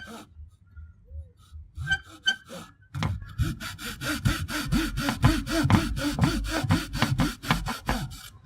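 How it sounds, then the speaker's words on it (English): A small hand saw cuts a diving lip slot in a wooden crankbait body. After a few tentative strokes, a fast, regular back-and-forth rasp settles in, close and clear, with many evenly spaced strokes. "I'm just going to cut the diving lip slot."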